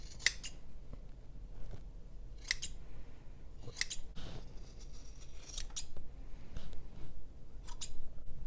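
Sharp macrame scissors slicing through thick felt, heard as a series of crisp, close snips spaced a second or two apart, with faint handling rustle between cuts.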